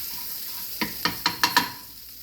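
Butter hissing in a frying pan, a steady soft sizzle near at hand broken by five quick scraping stirs in the second half, no voices.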